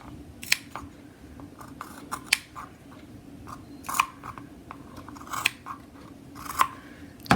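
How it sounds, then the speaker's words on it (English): Pinking shears cutting through fabric while a contour mask is finished after embroidery in the hoop: a quiet, close series of crisp, irregular snips with short gaps between cuts. "Now, pinking shears."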